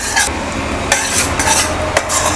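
A spoon scrapes masala around a thick-bottomed pan over a medium-high flame in several distinct strokes, each a short gritty rasp, under a continuous close sizzle.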